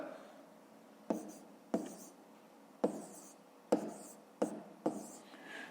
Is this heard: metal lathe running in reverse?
no